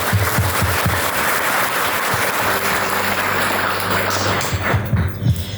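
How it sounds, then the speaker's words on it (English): An audience applauds a woman standing before them, with steady, sustained clapping from many hands and a low tonal hum running underneath throughout. "May we all put our hands together again and applaud for this amazing lady standing in front of us."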